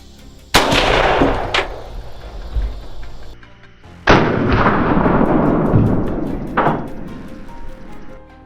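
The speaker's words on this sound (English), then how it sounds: "One deep breath, and I pulled the trigger." Two loud, sharp rifle shots ring out during a wild boar hunt, several seconds apart, and each one rolls off into a long, booming echo across open ground.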